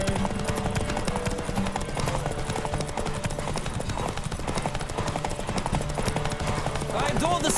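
Hooves clip-clop in a steady galloping rhythm as a horse runs in The Witcher 3: Wild Hunt, loud and continuous over game music and ambience, with occasional speech-like voice sounds mixed in.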